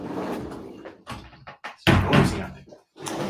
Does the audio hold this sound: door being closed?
yes